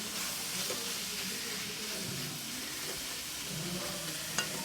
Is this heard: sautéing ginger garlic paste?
yes